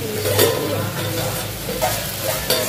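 Malabar spinach curry sizzles in a pan of fish oil with fried onion and chili, a steady close crackle with occasional stirring scrapes throughout.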